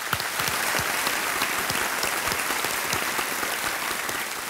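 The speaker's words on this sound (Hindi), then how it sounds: "एक बार फिर से आज के हमारे कंटेस्टेंट्स का तालियों के साथ स्वागत किया" Studio audience applause welcoming contestants on the KBC (Kaun Banega Crorepati) Season 10 TV quiz show: a dense, steady roar of many hands clapping throughout, loud and unbroken, with no talking.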